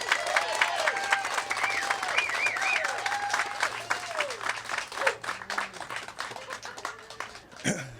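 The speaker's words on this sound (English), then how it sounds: "we should give Betty Sword a round of applause" Applause for Betty Sword breaks out at a community house groundbreaking, with scattered clapping that thins out toward the end while voices murmur underneath.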